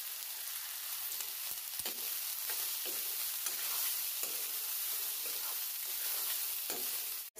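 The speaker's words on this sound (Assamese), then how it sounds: "মটৰ বেছিকৈ বেছিকৈ ভাজি হৈ গৈছে" Cooked rice and green peas are stir-fried together in a hot wok for local-style fried rice, giving a constant sizzle broken by repeated scraping strokes of a spatula and the occasional sharp clink against the pan.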